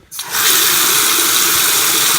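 A kitchen faucet opens and water gushes out in a loud, steady, hissing stream, close up, running without pause once it starts.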